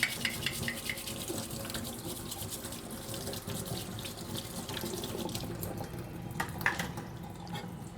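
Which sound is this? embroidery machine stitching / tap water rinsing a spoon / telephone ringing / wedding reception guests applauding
tap water rinsing a spoon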